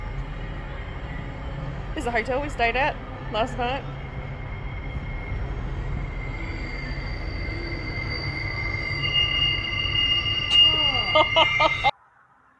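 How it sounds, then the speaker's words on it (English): A cargo train rumbles past with repeated high metal squeals from the wheels, growing louder near the end while someone talks over it. "Cargo train."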